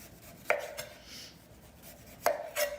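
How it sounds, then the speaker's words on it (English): Chef knife cutting a peeled turnip on a cutting board, two distinct firm chops about two seconds apart, each a sharp thud with a short ringing tail, close and clear in a quiet kitchen. "And so I would just cut the vegetable in half"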